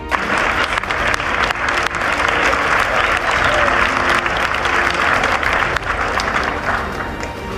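An audience applauds at a talk, a loud sustained roar of many hands clapping for several seconds, steady and unbroken.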